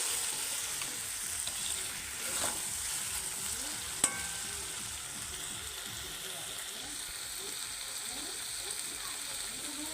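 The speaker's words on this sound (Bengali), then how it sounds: "তো এখন একটু কষিয়ে নিচ্ছি" Meat with turmeric and dried chili powder being stir-fried in a pan for an outdoor picnic meal, a continuous soft sizzle with scraping stirs and one sharp metallic clink midway.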